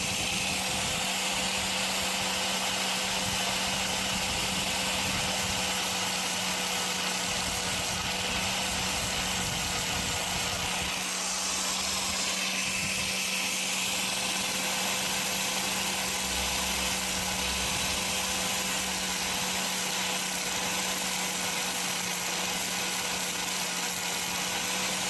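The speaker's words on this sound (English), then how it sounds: "I've just used a angle grinder, which I'll cut a little video to now, with a flappy disc where I've just taken them back." Angle grinder fitted with a flap disc grinding bolts down flat on a van body shell, a steady continuous whine with a harsh broadband hiss running throughout at moderate level, with no talking.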